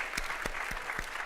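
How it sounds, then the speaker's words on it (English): Audience applause at a women's leadership event, a brief steady patter of many hands clapping with a few sharper individual claps standing out. "Let's have a round of applause"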